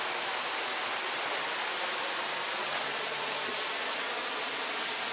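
Waterfall at Cascada Lágrima del Indio in Córdoba, heard near its lower end: a steady, dense broadband rush of falling water, loud and unbroken throughout, with no voices.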